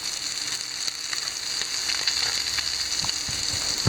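Bluefish frying in a pan, a steady close sizzle with a bright hiss and occasional small pops, growing slightly louder toward the end, with no talk.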